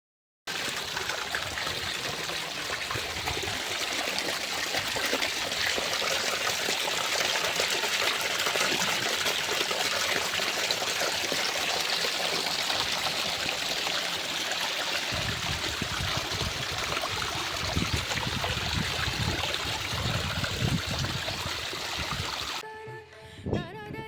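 Water flows steadily at Lonar Crater Lake, a continuous broadband rush that stays even and close throughout, with no voices, and a brief change near the end.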